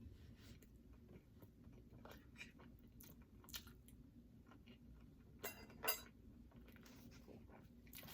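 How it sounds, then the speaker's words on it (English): Close, quiet crunchy bites and chewing of In-N-Out animal style fries and burger, soft mouth sounds with a few sharper crunches near the end and no talking. "I'm gonna take a bite of this"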